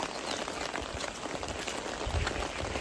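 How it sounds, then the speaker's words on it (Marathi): Rain falling steadily at Titvi dam near Lonar makes a continuous, even hiss with no pauses or voices. "पाऊस पडत आहे"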